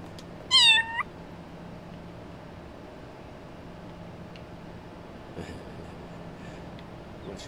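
A single short, loud cat meow from the Little Kitty Big City video game rings out near the start, followed by near silence with faint soft clicks later.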